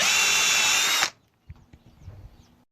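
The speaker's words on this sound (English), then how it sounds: "take your drill and drill out all the holes to make sure that all the bolts will line up" A power drill bores holes through a thin tin-can sheet being made into a head gasket, one loud continuous whine for about a second that stops abruptly, followed by a few faint clicks and handling knocks.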